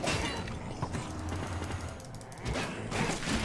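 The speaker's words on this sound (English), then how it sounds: "Send you off with an explosion." A rumbling explosion with crackling bursts goes off in Minecraft Dungeons, thick noisy blasts swelling and fading over a few seconds amid game noise.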